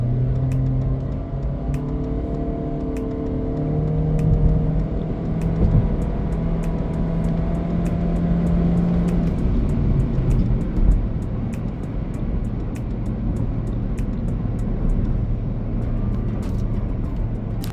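A Honda Civic RS Turbo (2023) in sport mode with the AC off, accelerating hard from a standstill to 100 km/h. Its engine note climbs steadily through the gears under a continuous loud rumble of road and wind noise, with no talking.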